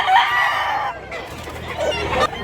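A gamefowl rooster, a gray bullstag, crows loudly and close in one long call, followed by softer clucking vocal sounds.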